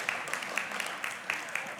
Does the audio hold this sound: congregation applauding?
yes